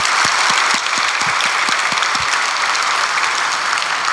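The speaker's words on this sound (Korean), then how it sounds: "위해서도 박수해 주시겠습니다." A church congregation at a special dawn prayer service breaks into steady, loud applause filling the whole stretch, dense clapping from many hands with no pauses.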